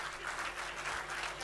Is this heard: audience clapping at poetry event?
yes